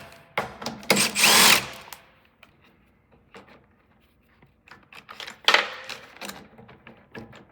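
A power drill driving bolts out on a Honda push mower's carburetor, in two short bursts of loud whirring separated by a quiet stretch with small clinks of handling.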